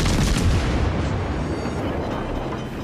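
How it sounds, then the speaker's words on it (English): Naval guns fire at an enemy warship in World of Warships: Legends, a loud, close, booming salvo whose heavy rumble rolls on and slowly fades over a few seconds. "Concentrate fire on the enemy warship."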